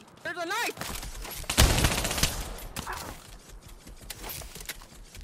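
Gunfire in the Pavlov VR shooter playing a Trouble in Terrorist Town round on PSVR2, with a loud sharp burst of shots followed by fainter scattered bangs and game noise, and a voice briefly at the start.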